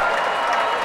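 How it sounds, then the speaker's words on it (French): Bowling spectators clapping in the stands at a youth world championship masters final in Paris, a steady wash of applause with a faint crowd murmur, continuous and moderately loud throughout. "Écoutez le public qui applaudit derrière Gunji."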